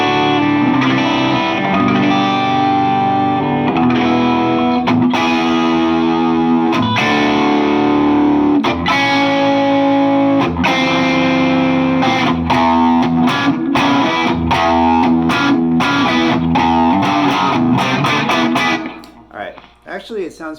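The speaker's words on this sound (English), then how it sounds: "Let me give you full volume on my volume knobs on my Les Paul." A Les Paul electric guitar with its volume knobs at full plays through a Marshall Plexi reissue amp, giving a loud, bright, crunchy distorted tone with sustained chords and picked notes before cutting off into quieter ringing at the end.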